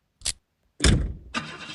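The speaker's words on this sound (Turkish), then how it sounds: "Çalıştır baba arabayı." A car starting in a children's game, with a short click followed by a louder engine-like burst and then a steady running hum, close and clear.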